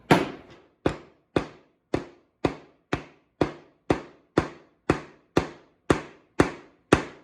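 A short screw hammered into wood in a kids' woodworking kit: about fourteen sharp, evenly spaced hammer blows, close and alone.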